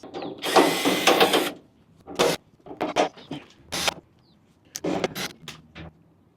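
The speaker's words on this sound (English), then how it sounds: "I had to get a socket to take off a couple more screws that are hidden in the back." Screws are removed from a pool heater with a socket ratchet. Several short bursts of ratcheting clicks come in quick separate spurts, close and fairly loud, with pauses between them.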